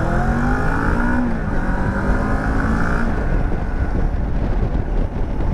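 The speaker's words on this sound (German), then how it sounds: "Sound in der Beschleunigungsphase ist übersichtlich" A Moto Morini X-Cape 650 motorcycle with an inline twin engine accelerates, its engine note rising steadily through the gears under heavy wind rush, loud and continuous, with no talking.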